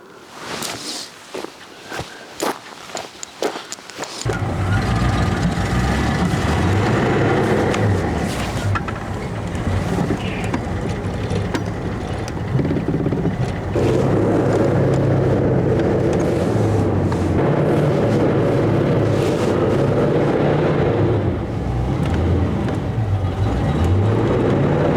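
A Range Rover Classic's engine cranks and catches after a few seconds of clicks and shuffling, then settles into a loud, steady rumbling idle that swells slightly as it runs.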